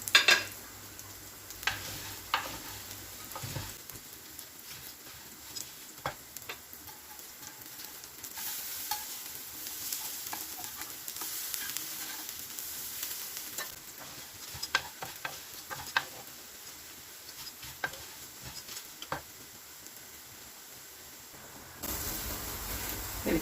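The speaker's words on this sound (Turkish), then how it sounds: "Bu şekilde bütün mücverlerimi pişiriyorum" Zucchini and potato fritters frying in a pan give a steady, soft sizzle with scattered light ticks and pops, continuing at an even level for a long stretch with no one talking.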